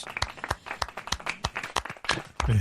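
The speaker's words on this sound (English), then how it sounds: "can we give Phil a round of applause, please?" A round of applause from an audience after a talk, with distinct individual claps close by at first, growing into denser clapping near the end.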